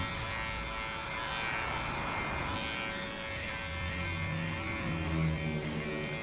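Electric hair clippers cut hair over a comb during a short student-style haircut, a steady close buzzing drone that runs the whole time with slight rustling variations and no talk.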